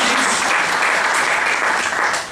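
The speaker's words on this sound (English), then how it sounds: "By the way, a huge round of applause for Jan Harley, who has been." Audience at a small business workshop clapping together in a short, steady burst of applause, fairly close and loud, fading slightly at the end.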